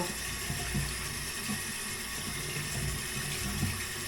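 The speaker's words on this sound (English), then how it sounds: "Rinse it out good. Turn it inside out." Running tap water pours into a container being rinsed out, a steady close splashing rush with no voices.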